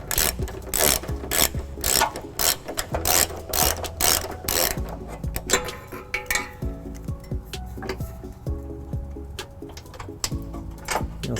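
A ratchet with a 17mm socket turning out the rear trailer hitch bolt on a 2015 Toyota Prius Plug-In, steady rapid clicking in bursts of close, crisp pawl ticks, with a short pause between strokes.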